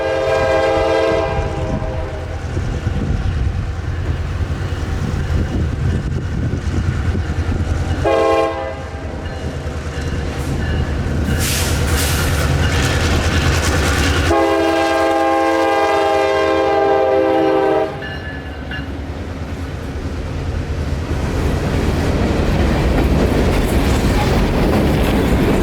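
A single-engine freight train hauls 35 empty rockhopper cars north over an old swing bridge in Florida, its horn sounding in long loud blasts over a steady rumble and rolling clatter of wheels, close and continuous.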